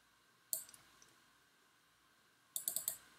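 Quiet computer mouse clicks while editing a photo with a graduated filter: a single click, then after a pause a quick run of four or five clicks, close and soft against near silence.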